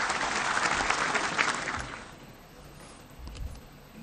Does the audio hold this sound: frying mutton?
no